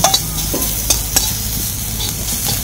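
Onions frying in oil in a kadai, a steady close sizzle broken by a few sharp scraping stirs of a spatula.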